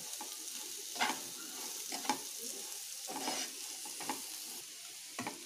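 Vegetables for egg veg chowmein, seasoned with turmeric, fried and mixed in a pan: a soft continuous sizzle with occasional spatula scrapes and taps, fairly quiet throughout.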